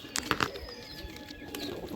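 Pigeons in a Madras pigeon loft give a few soft, low coos with faint rustling, heard quietly at close range.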